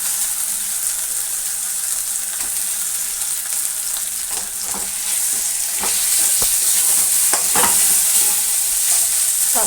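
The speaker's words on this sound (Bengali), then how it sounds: "এদিকে দেখো আমি মশলা ভাজছি" Spices frying in a pan with a loud, continuous sizzle, broken by scraping stirs and clinks of the utensil, close by and without any voice.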